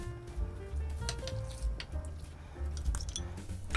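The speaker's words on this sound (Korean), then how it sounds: "네, 이제 소스를 부어 주세요" Red wine pickling sauce is poured over sliced radish to make pickled radish wraps, giving a close, wet, squishy splashing that runs steadily through the whole clip.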